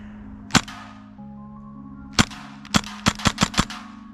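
A rifle fired in semi-automatic mode, sharp loud single cracks: one shot, a pause, another, then a quick run of about five evenly spaced shots, ringing close and snappy.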